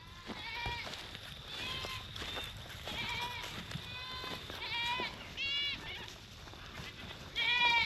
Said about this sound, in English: Come on, cows.